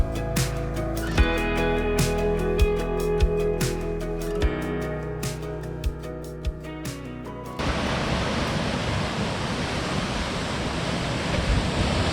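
Sea waves wash over coastal rocks at a seascape before sunrise, first as rhythmic surges with separate thuds and splashes, then as a loud, steady broadband roar of churning water, with no voices.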